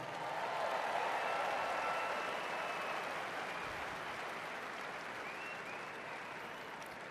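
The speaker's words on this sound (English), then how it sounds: "So I'm asking you to give yourself a round of applause right now." Applause from a political rally crowd at an inauguration-related event, a dense, sustained wash of clapping that holds steady and fades slightly over several seconds, with faint crowd voices underneath.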